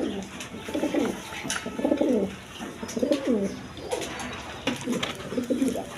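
A pair of black racer pigeons coo repeatedly at close range, rhythmic throaty bursts recurring every second or so, with other cage noises around.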